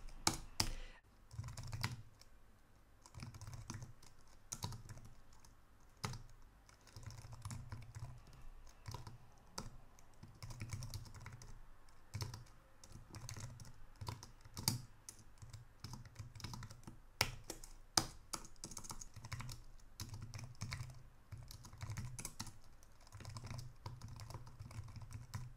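Continuous, fairly close typing on a computer keyboard while writing SQL code, with dense key taps, occasional louder strikes and brief pauses over a steady low room hum, with no talking.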